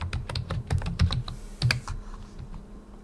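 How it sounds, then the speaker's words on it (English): Keys clatter on a computer keyboard as a username and password are typed in to log in to a Linux Mint machine, a close, quick run of crisp clicks with brief pauses and no voices. "type in a username that's configured on the Linux Mint device and their password"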